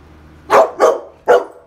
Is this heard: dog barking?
yes